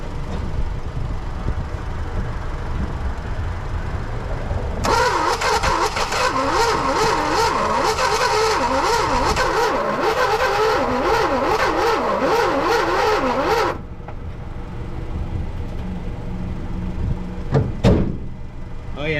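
A 1966 Dodge Dart engine, parked for 25 years, cranks and catches, revving roughly with a wavering rise and fall for about nine seconds before cutting out, heard up close with a brief clank afterward.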